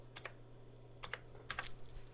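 Quiet bursts of typing a command on an IBM AS/400 computer keyboard: a couple of quick clicks, a pause, then two more short flurries of keystrokes, close and soft.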